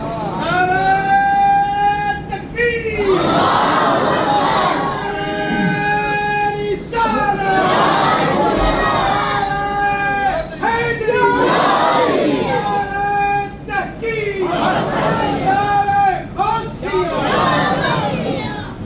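A large crowd at a religious gathering chants slogans in loud unison, repeated call-and-response shouts rising and falling in waves throughout, with a leader's voice leading each chant.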